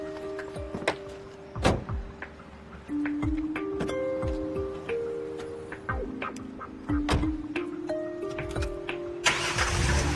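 A car engine cranks and catches, then idles steadily at mid pitch with a door thunk and other vehicle clatter around it, fairly close and alone with no talk.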